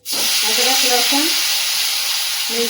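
Chopped ginger and garlic dropped into one tablespoon of hot oil with a pinch of asafoetida in a kadhai, giving a loud, steady sizzle and hiss that holds throughout, with a brief voice near the start.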